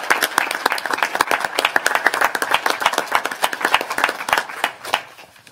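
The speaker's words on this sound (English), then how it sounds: "So please give them a round of applause" Brisk, dense applause for campaign staff at a post-midterm election news conference, many hands clapping close and loud in a rapid, uneven patter that tapers off near the end.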